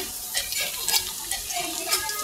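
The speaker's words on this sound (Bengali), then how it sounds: "পেঁয়াজ কুচি দিয়ে দিলাম। হালকা একটু ভাজবাম।" Chopped onions fry in a pan for a home-style snakehead fish curry, giving a steady close sizzle with a spoon scraping and stirring in short strokes.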